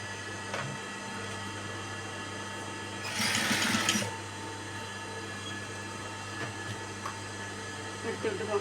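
A sewing machine stitching a blouse runs in a short rattling burst of about a second near the middle, against a steady low hum, with a person talking quietly around it.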